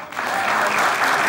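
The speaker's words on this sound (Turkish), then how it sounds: "Çok az alkış aldın." A short burst of audience applause, steady dense clapping from a crowd, lasting about a second.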